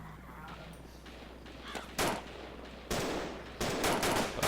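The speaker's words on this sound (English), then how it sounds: "There's a heap of shooting going on now." Gunfire in the BreakingPoint game, a few distinct shot bursts rising out of a quiet ambient bed, moderately loud and fairly close, spaced about a second apart.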